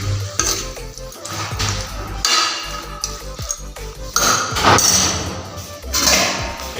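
Local chicken with spices and salt is stirred as it fries in a pan. A spoon scrapes and clanks against the metal in uneven strokes over a continuous close sizzle.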